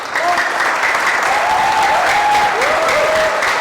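Studio audience applause on a Hindi TV comedy show, a steady, loud wash of clapping from a crowd that runs the whole time, with a few faint shouts or whistles rising above it.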